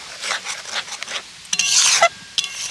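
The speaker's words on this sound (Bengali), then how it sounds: "এবার শুধু খালি আস্তে আস্তে জাল দিয়ে এইভাবে নেড়ে নেড়ে ক্যান্ডিটাকে বানিয়ে নিতে হবে" Ginger candy being stirred slowly in a pan over low heat, with soft scraping strokes and light sizzling that rise into a louder scrape near the end.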